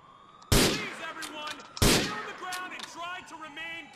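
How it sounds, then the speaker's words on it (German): Two sharp gunshots crack out in GTA 4 gameplay, the first at half a second and the second just before the two-second mark. Each is loud and close, with a ringing tail underneath faint game sounds. "wo kommt denn der Schuss her?"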